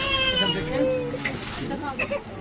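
Indoors at home, a cat meows in a few short, rising and falling cries, mixed in with people talking nearby.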